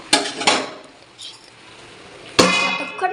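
A lid lands on a pot of spinach cooking with salt, giving a couple of sharp metallic clanks at the start and another ringing clatter near the end, separated by quiet, with no voices.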